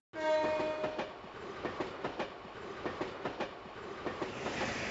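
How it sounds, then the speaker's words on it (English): A train from the Empire rolls past in the video game Trails to Azure, opening with a brief horn, then a steady rumble with rhythmic clickety-clack of wheels over rail joints at moderate volume. "Train from the Empire."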